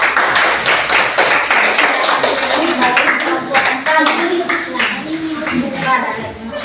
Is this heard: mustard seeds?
no